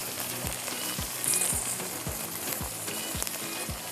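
Okra fries lightly in oil with a soft, steady sizzle, punctuated by a regular series of low thumps roughly every half second, quiet and close with no talking.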